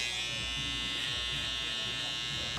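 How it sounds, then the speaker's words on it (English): Electric hair clippers run clipper-over-comb through a big beard at a barber, giving a steady close buzzing drone that stays even throughout with no speech. "hit a little clipper over comb"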